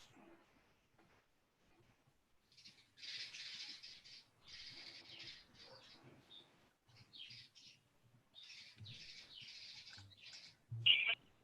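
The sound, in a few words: birds chirping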